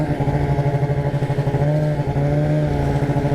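An RMK snowmobile engine runs close and loud with a pulsing, rising drone as the throttle is worked for a wheelie, with no other sounds over it.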